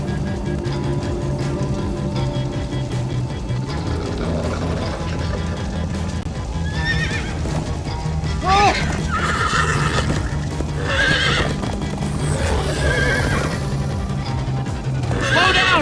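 A horse in Minecraft: Story Mode whinnies several times over steady clip-clopping hooves, with a rumbling background and other game sounds mixed in.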